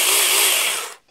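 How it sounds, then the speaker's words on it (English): Small Saker mini electric chainsaw running out in the bush, a loud steady motor whine held for about a second before cutting off abruptly. "I'm going to put this little saw to the test."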